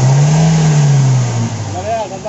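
Toyota Innova with a 1TR engine revving as it misfires, a loud close engine whose pitch swells then eases off, with people talking over it.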